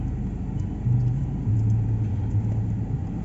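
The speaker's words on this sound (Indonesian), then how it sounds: "Kalau nggak digas, suara mesinnya aja tuh udah cukup masuk ya" Ford Everest or Toyota Fortuner SUV engine running as it drives off in the dark, a low steady rumble from inside the cabin with slight pitch rises as it pulls away, no talking.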